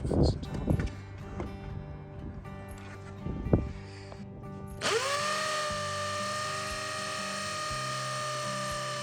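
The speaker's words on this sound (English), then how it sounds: "because I've got bigger screws, I'm going to have to drill in further" Power drill driving larger screws into a wooden garden fence, a few short bursts followed by a long sustained whir, close-up outdoors.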